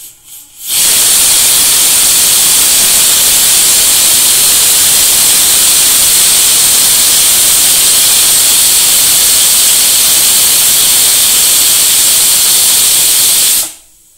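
A pressure cooker whistle releases steam while tur dal cooks on a large burner, a loud, steady hiss sustained for about thirteen seconds before cutting off abruptly.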